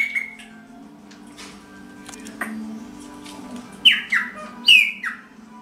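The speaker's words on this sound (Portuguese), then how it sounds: "Rolinhas, periquitos e meus pássaros pretos em reprodução." Captive chopi blackbirds, parakeets and doves breeding in an aviary: a few sharp squawks and chirps ring out close, then a pair of loud calls near the end over a low hum.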